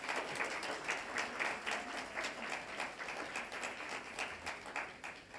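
New graduates at a CQUniversity Noosa graduation ceremony clap for their parents and supporters, a soft, distant and steady wash of many hands that keeps an even pace throughout.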